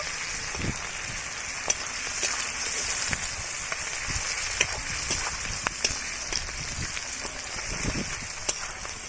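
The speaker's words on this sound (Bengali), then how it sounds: "পেঁয়াজটাকে একটু লালচে করে ভেজে নেব।" Chopped onions fry in a pan for a Bihari-style mutton dish, a steady crackling sizzle like light rain with soft stirring clicks throughout.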